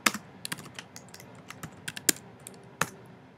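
Keys clack on a computer keyboard while commands are typed in the vim text editor: scattered, quiet, irregular keystrokes with short pauses between them.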